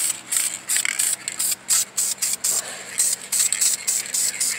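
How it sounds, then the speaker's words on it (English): Copper paint sprays onto an Oldsmobile 400 car engine in a close series of short hissing bursts, stopping and starting in an uneven rhythm. "let's get some copper sprayed on here"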